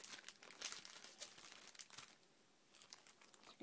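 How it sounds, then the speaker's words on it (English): Plastic packaging for a destash lot of mixed bling and pearls crinkles continuously, with close, irregular rustling bursts and small crackles throughout and no talk. "Sorry about the crinkling."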